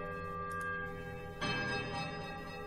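Bells ring in a temple puzzle in the fantasy role-playing game Pillars of Eternity: sustained resonant chimes over a steady tonal drone, with a brighter struck bell entering clearly midway and ringing on.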